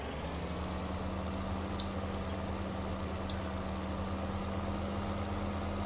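A John Deere 9RT tractor idles with a steady low engine drone and a sustained tonal hum, joined by a faint high whine and a few soft clicks, all unchanging and close.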